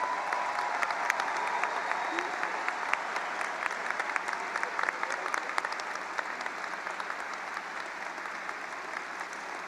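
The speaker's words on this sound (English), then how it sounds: "Could we please give a round of applause for our faculty members?" A graduation crowd applauds faculty members at a high school commencement, steady sustained clapping from a large audience heard at moderate distance throughout.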